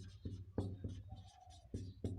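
Chalk or marker writing on a board during a physics lesson gives a series of short, close scratching strokes in an irregular rhythm, quiet and alone.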